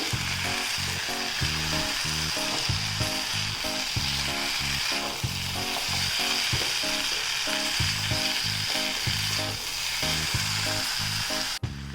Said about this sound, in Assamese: এয়া মই ভাজিখিনি ধুনীয়াকৈ মিক্স কৰি ল'লোঁ